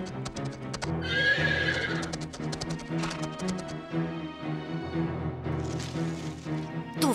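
Several horses gallop with quick clip-clopping hooves, and loud neighs and whinnies cut through the hoofbeats as a group of riders sets off at speed.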